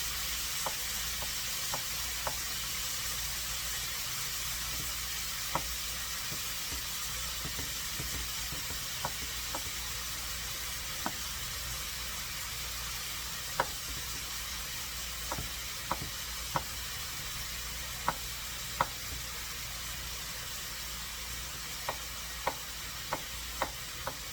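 Garlic sautéing steadily in a pan for a shrimp and white bean salad, a continuous close sizzle and hiss with scattered sharp pops and light stirring clicks throughout, no talking.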